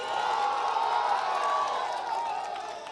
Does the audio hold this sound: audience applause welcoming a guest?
yes